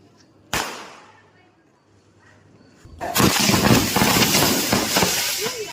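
Diwali firecrackers going off outdoors: one sharp bang, then a loud, dense crackling barrage of bursts that keeps going to the end.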